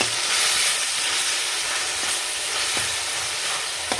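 Tomatoes with turmeric frying and being stirred in a pan for tomato rice: a close, constant hiss of sizzling, with a few soft knocks from the spoon.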